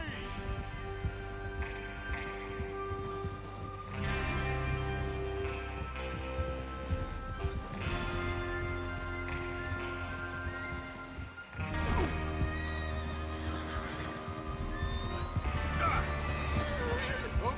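Horses neigh and whinny with hoof clatter in Red Dead Redemption 2, heard in several distinct bursts over a steady musical bed and some talk.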